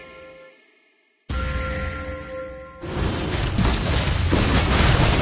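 A turret being destroyed in a mobile battle arena game, a loud booming blast that bursts in suddenly and gives way to a dense roaring rumble over continuing game sounds.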